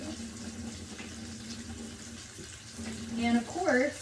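Hot pasta water poured slowly out of a hot pan without a strainer, a steady splashing stream into a sink that grows louder and gurgles toward the end, with a person talking over it.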